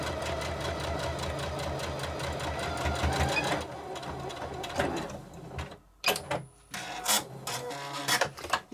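A sewing machine stitches the side seams of a fabric storage pouch for masks, running in a fast steady mechanical whir for a few seconds, then stopping and starting in short bursts with handling noise between them.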